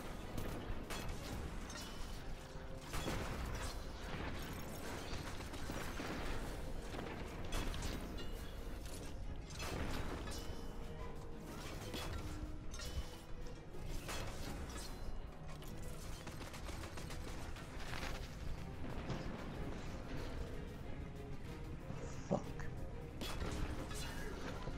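Continuous chaotic video game combat noise with crashes, scattered gunshots and booming blasts, loud and steady throughout, with little talk.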